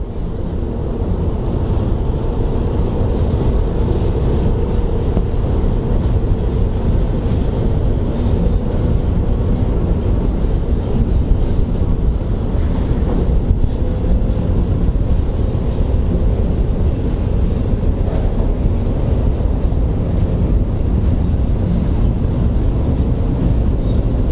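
A heavy diesel locomotive hauling a container train rumbles past close by at Hua Takhe station, a loud, steady, roaring drone that holds for the whole stretch without a break.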